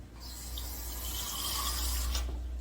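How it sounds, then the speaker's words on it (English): Water poured from a tap into a bowl of gluten-free flour blend for pizza and bread dough, a steady close rushing stream that stops abruptly near the end, over a low background hum. "And I am going to be putting some water in it."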